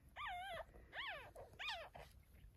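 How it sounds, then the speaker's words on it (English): Newborn puppies lie with their mother dog after an emergency C-section, letting out three faint, high rising-and-falling whimpering cries in a row, with soft fussing sounds between them. "Here's Paris and her puppies"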